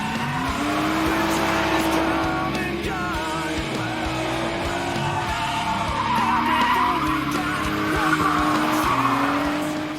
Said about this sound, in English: Tim's going to show us how to drift.